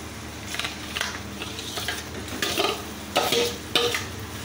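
Boiled potatoes stirred into a frying samosa filling sizzle and scrape in a pan, with repeated spatula strokes making rhythmic bursts of crackle over a steady fry.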